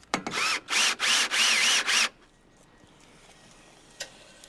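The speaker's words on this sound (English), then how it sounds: "Tighten all screws." A power drill driving screws into deck railing posts, with several loud, close whirring bursts in quick succession that end abruptly, then quiet with one faint click.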